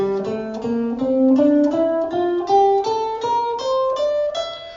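A guitar plays an ascending scale, one clear plucked note at a time at an even, steady pace; no talking.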